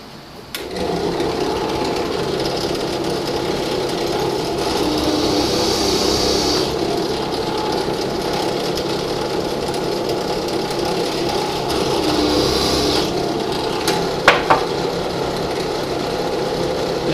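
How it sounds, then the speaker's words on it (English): A drill runs steadily for a long stretch while boring holes into a wooden block, a loud continuous close-up buzz with slight rises and dips in intensity and a couple of sharp knocks near the end. "I'm going to drill these out real quick and I'll show you"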